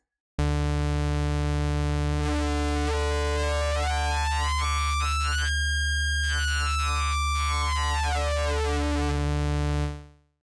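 A sustained Ableton Drift synthesizer tone with a steady low fundamental, its upper harmonics sweeping up and down as oscillator 1's wave shape morphs, ending abruptly.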